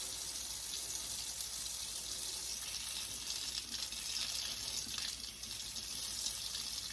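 Lukewarm water runs steadily from a tap for a baby bath, a continuous bright splashing hiss that stays even and close throughout, with no talking.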